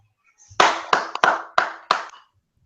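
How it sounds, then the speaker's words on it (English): Five sharp hand claps in a loose, uneven rhythm, close and loud, each followed by a brief room echo, with silence before and after. "Clapping."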